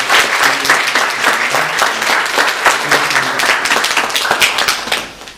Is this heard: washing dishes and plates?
no